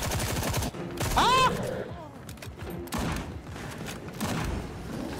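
Hunting rifle shots in the zombie shooter Sker Ritual, several sharp loud blasts in quick succession among other gunfire and game effects, with a brief shout over them.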